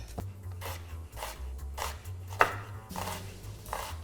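Onions are being chopped on a cutting board, a series of quiet, evenly spaced knife strokes with a soft low hum behind them.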